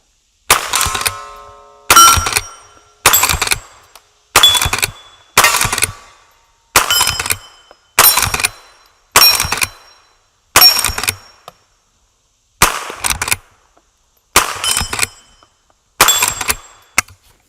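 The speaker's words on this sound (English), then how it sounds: "So let's do a few shots downrange with it." Thirteen sharp .22LR shots from a Henry carbine rifle fired downrange outdoors, each a crisp loud crack with a short ringing tail, spaced evenly about a second or so apart with silence between.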